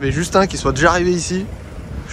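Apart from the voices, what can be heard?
None of the usual background noises is heard.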